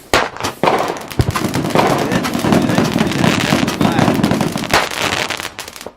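Fireworks burst in rapid, crackling volleys, dense bangs and sizzling pops running almost continuously for several seconds at fairly close range.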